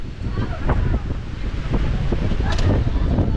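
Hard gusts of wind roar into the microphone outdoors among pine trees, a loud, rough rumble throughout with faint scattered voices underneath.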